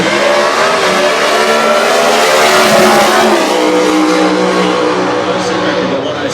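A drag race car makes a qualifying run at the Winternats drag meeting, its engine a loud, sustained roar that holds steady and fades only slightly at the very end.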